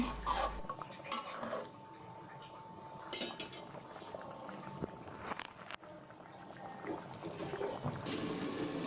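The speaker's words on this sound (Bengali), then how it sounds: "পানি দিয়ে একটু নাড়াচাড়া দিয়ে আবার ঢেকে দিচ্ছি বিশ মিনিটের জন্য" Beef in a pot with water being stirred and then covered, clinking metal spoon and pot sounds with sloshing liquid and a lid clatter, close and moderate, no one speaking.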